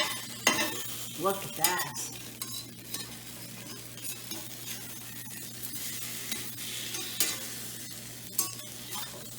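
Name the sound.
French toast frying in a pan over medium heat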